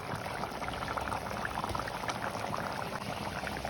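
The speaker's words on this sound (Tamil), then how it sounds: "கறி கொதிச்சா கூட பார்ப்போம்." Mutton curry simmers in a covered pot, giving a steady, close bubbling and crackling that runs evenly throughout with no voices.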